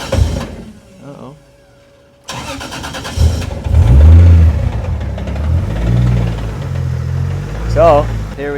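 A Toyota 2JZ engine catches after cranking and settles into a rough, loud idle with some revs, close by, with a person speaking at moments.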